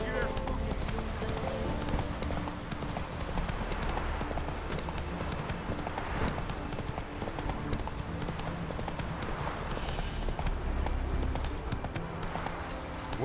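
Roach, a horse in The Witcher 3, gallops with rapid, steady hoofbeats that run through the whole passage, close and moderately loud, under a voice and a busy game soundscape.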